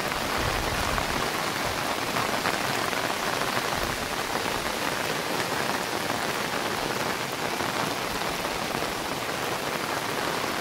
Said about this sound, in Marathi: हे पहा, पूर्ण पाऊस चालू आहे